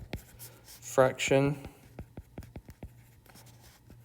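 A marker or chalk taps and strokes across a board in an algebra class, a series of sharp, close ticks in a quick irregular rhythm, with a teacher briefly speaking near the start.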